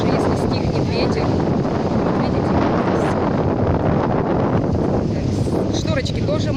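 Strong wind buffets the microphone on a beach, a dense, constant roar with gusting texture and no breaks, and muffled voices partly buried beneath it.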